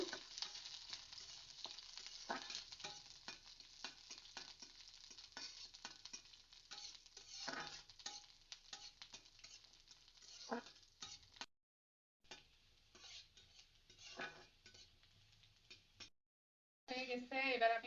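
Garlic cloves fry in oil with a continuous close crackle and frequent stirring scrapes, broken by two brief silent gaps before the sizzle resumes.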